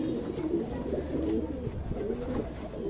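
A young female Madrasi pigeon coos softly and steadily over a low, muffled background hum, with no talk.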